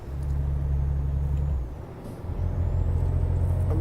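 A heavy truck in Euro Truck Simulator 2 rumbles with a low engine drone, then its air brakes release with a hissing dip before the engine swells again, loud and close.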